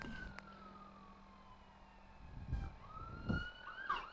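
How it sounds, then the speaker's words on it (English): Distant emergency vehicle sirens wail with slowly gliding tones that rise and fall, heard faintly in the background behind a few soft thumps, with no talk over them. "Apologies for the sirens."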